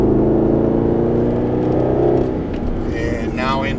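A Mercedes-Benz SLS AMG drives through a tight corner on a track as the throttle rolls on, its engine a loud, steady, close-up drone that eases slightly toward the end.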